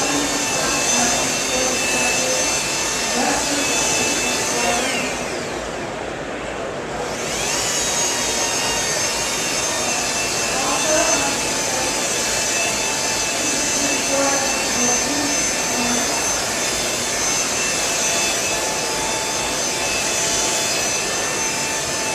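A polisher buffing car paint with a rubbing compound pad at a trade-show booth, a loud continuous whirring drone that dips briefly partway through, with someone speaking underneath.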